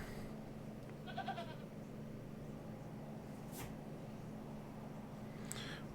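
A goat in the Hob's Barrow video game gives a short, faint bleat early on, over a steady low background hum, followed by a few soft clicks with no talking.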